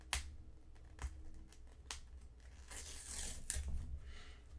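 Foil wrapper of a Topps baseball card pack being torn open, a few sharp ripping bursts close by with a longer crinkly tear near the end, no talking.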